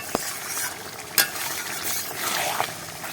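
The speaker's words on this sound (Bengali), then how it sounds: "এবার এটা নাড়া দিয়ে নেব" Meat being stirred in a cooking pan as its released water cooks down, a few scraping and clanking strokes of a utensil over a soft steady sizzle, close and fairly quiet.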